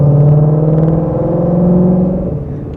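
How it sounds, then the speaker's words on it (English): A 2021 Ford Mustang Shelby GT500's 760 hp supercharged V8 roars loudly and close up, a deep sustained drone with a rising whine layered over it, then easing slightly at the end. "And you can hear the supercharger so much."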